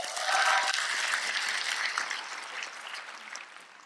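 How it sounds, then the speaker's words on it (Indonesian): Audience at a stand-up comedy show claps and cheers, loudest at the start, then the applause gradually thins and fades over a few seconds. "boleh minta tepuk tangan yang paling meriah"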